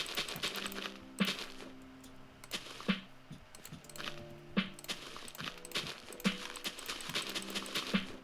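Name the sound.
horses clip-clopping in Minecraft, a video game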